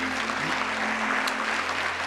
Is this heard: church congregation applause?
yes